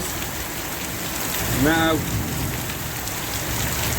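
Torrential monsoon rain pours down as a dense, steady roar filling the whole clip, with a single short spoken word rising briefly over the downpour.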